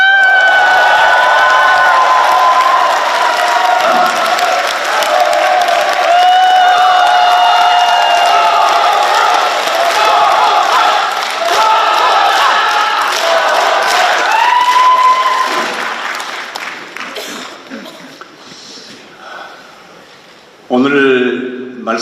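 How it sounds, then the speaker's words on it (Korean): Loud applause and cheering from an audience at a book launch event, sustained for about fifteen seconds before fading, with whoops and a brief burst of voices near the end. "여러분의 큰 박수로 조옥원 저자님을 모시겠습니다."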